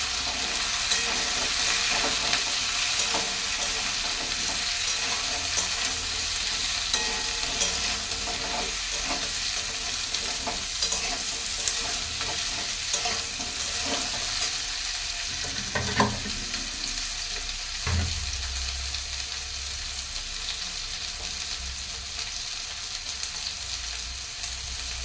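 Red potatoes and eggplant fry in a pan, a steady, close sizzle running throughout, with a couple of brief stirring knocks near the end and no voices.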